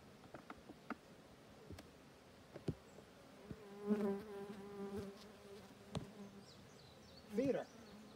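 Honey bees buzz around an open hive, a soft steady hum with several louder passes of individual bees flying close, and faint taps and handling noises around them.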